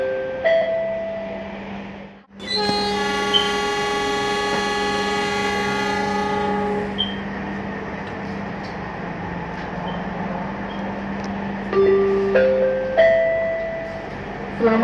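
An LRT Jabodetabek Bekasi Line train running, with a steady rolling hum and tonal motor whine that rises and falls through the ride, close and continuous, with a few chime-like tones near the end and no talk.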